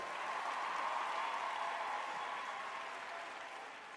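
A crowd applauds steadily, a dense wash of clapping that holds even and then fades slightly toward the end.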